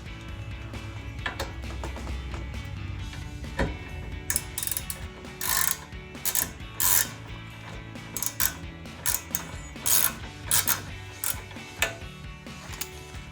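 Ratchet with a 14 mm socket loosening a rear brake caliper bolt on a 2015–2023 Ford Mustang EcoBoost, heard close up as a run of sharp, repeated clicking bursts in quick strokes with short pauses between them, no voices.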